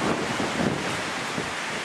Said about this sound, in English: Today is quite a windy day.